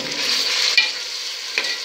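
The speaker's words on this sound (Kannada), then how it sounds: "ಈರುಳ್ಳಿ ಚೆನ್ನಾಗಿ ಫ್ರೈ ಆದಮೇಲೆ ಮಟನ್ನ ಅದಕ್ಕೆ ಹಾಕಿ ಒಂದು 4-5 ನಿಮಿಷದಷ್ಟು ಫ್ರೈ ಮಾಡಿ." Quarter kilo of mutton frying with well-browned onions in a pan for biryani, a steady close sizzle with a couple of sharp stirring scrapes, no voices.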